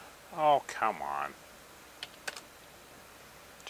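Keys on a computer keyboard tapped a few times, sparse isolated clicks following a short vocal sound, in an otherwise quiet room with a retro Super Socket 7 PC.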